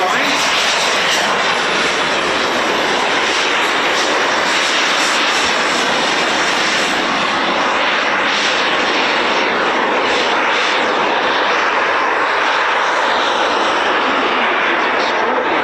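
An Avro aircraft roars past at an airshow display, a loud, continuous engine drone that swells and fades slightly as it passes overhead, with no voices heard.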